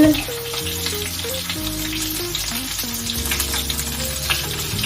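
Onion fries in bacon grease in a pan with a steady sizzle, partly under sustained musical tones that run throughout.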